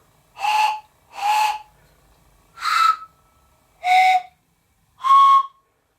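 Five separate breathy, reedy whistle blasts from a homemade reed train whistle, each about half a second long and evenly spaced, sounding alone against near silence.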